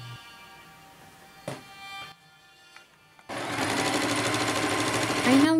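A sewing machine stitches brown fabric into a tube for a costume arm sleeve: brief quiet handling and a short burst, then a loud, steady, fast mechanical whirr up close that keeps running to the end.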